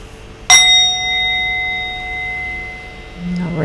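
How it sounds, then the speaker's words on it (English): A single meditation bell struck once to close a guided Reiki session, a clear bright ring with a long sustained decay fading over about three seconds, with a faint low voice stirring at the end. "I'll ring the bell."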